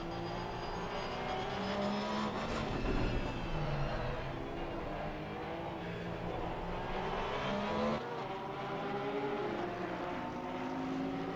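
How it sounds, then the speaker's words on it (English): Porsche race cars dueling on track in an endurance racing video game, engines droning and shifting in pitch as they rise and fall through the gears, steady and fairly close with no talking. "These two Porsches still going at it"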